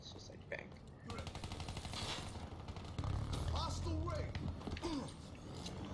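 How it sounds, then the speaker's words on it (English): Semi-automatic gunfire in the video game Black Ops 3, a steady stream of rapid shots and game effects under a dense mix, with a voice talking over it. "It's the semi-auto, like boom, boom, boom, like that."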